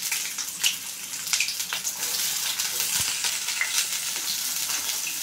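Chopped onions frying in hot oil in a pan while cooking pasta, a steady close sizzle with crackling pops and occasional stirring scrapes.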